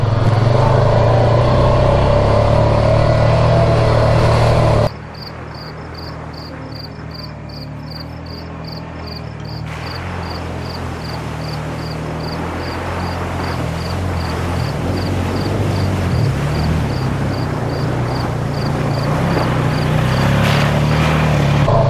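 Honda Pioneer 500 side-by-side driving along a forest trail, a loud steady engine drone and rumble that shifts abruptly in tone partway through and continues, with insect chirps ticking steadily above it.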